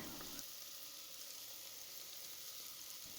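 Mint and fenugreek leaves sauté with chilli powder and coriander powder in a hot pan, giving a steady, close sizzle with faint stirring, and no voices.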